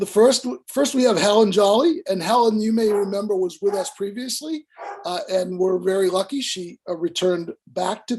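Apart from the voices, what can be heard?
No everyday noise stands out behind the speech.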